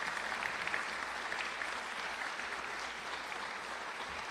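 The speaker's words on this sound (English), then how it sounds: "Let's give everyone who's working a round of applause." Sustained applause from a reunion celebration audience for the volunteers, dense steady clapping filling the room for several seconds at an even level before easing slightly toward the end.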